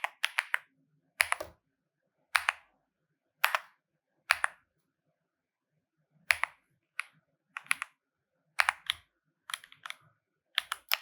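Keys on a computer keyboard tapped while entering Odoo code, in short, crisp clusters of clicks separated by silent pauses, close up and alone with no voices.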